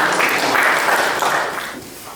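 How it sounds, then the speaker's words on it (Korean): Audience applause for a speaker at a commemorative ceremony and lecture in a New York church hall, a steady dense wash of clapping that holds evenly and then tapers slightly toward the end. "여러분이 힘찬 박수 부탁드리겠습니다."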